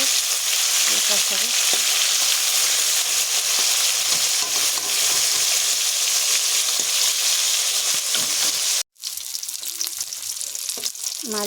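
Puna fish frying in hot oil for a Bengali pumpkin and potato fish dish, a steady loud sizzle with stirring scrapes throughout, briefly cutting out near the end before resuming.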